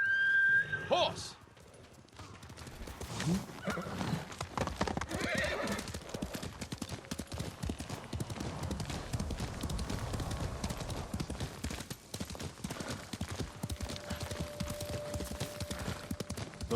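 Rapid hoofbeats of a galloping horse in the video game Ghost of Tsushima, with a whinny early on, mixed with game sound effects and a brief spoken shout.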